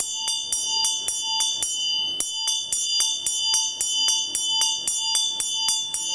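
Tibetan Buddhist ritual hand bell during a Guru Puja teaching: a clear, bright ring struck in an even, unhurried rhythm, over a dozen close strikes with sustained shimmering overtones, no talking.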